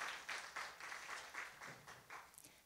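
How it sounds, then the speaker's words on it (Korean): Applause from the audience at a Siheung city council policy debate on arts creation, greeting a professor after a keynote presentation; light, faint clapping from a modest crowd that fades within a few seconds. "주제 발표를 해주신 김정원 교수님께 다시 한번 큰 박수 부탁드리겠습니다"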